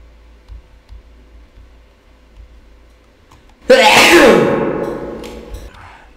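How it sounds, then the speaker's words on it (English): A single loud, sudden sneeze bursts out after several seconds of quiet room ambience, then trails off slowly. "I have a sneeze coming on."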